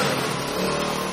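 A Road Prince motorcycle engine runs steadily up close on a comedy show stage, its continuous drone holding level throughout with no speech over it.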